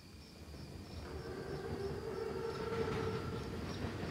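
Armored Panzerzug train in Call of Duty WWII approaching: a low continuous rumble with a faint high whistle-like tone, steady and building slightly, heard from a distance without speech.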